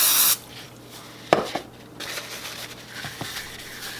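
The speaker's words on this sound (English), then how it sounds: "Then we're going to go ahead and grease our pan." Cooking spray hits a bread pan in a short loud hissing burst, followed by quieter clinks and light rubbing as the pan is handled.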